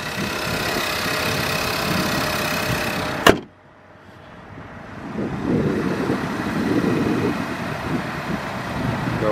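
A 2015 Ford Edge Titanium with a 2.0-liter engine runs close by, a low steady hum broken by a sharp door-like thump, then a quieter murmur that gradually swells back up.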